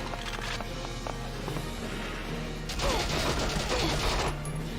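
A burst of machine gun fire crackles in the tactical war game Valkyria Chronicles, starting midway and rattling steadily over a low droning game background.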